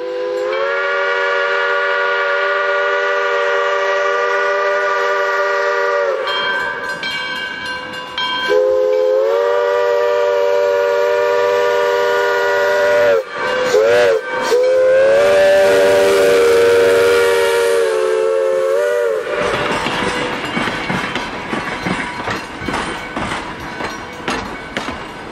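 A steam locomotive whistle on the Little River Railroad blows in long sustained tones, broken by hissing bursts and chuffing, ending with rhythmic rushing steam close by.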